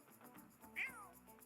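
A cat meows once in The Sims 4, a short, bright mewing call rising and falling over a low, quiet game background.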